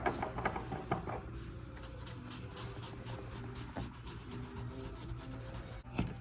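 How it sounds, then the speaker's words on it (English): Leather cream being buffed into a leather wallet in small circles, a soft, close, continuous rubbing and rasping with faint scratchy strokes and no talk. "we are making small little circles to buff it out"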